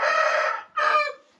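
Young roosters, cockerels hatched in early August, crowing up close: two loud, strained calls in quick succession.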